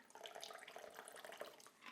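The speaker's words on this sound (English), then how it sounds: "We're pouring it." Cranberry gimlet cocktail poured into a chilled coupe glass, a steady close liquid trickle and splash running for about two seconds with no talking.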